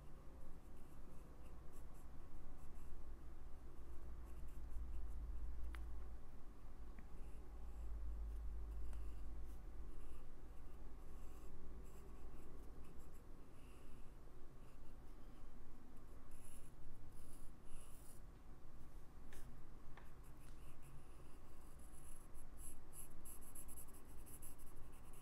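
Pencil drawing on paper during a blind drawing exercise, a steady continuous scratching and scraping of graphite close by, running without pause and with no speech.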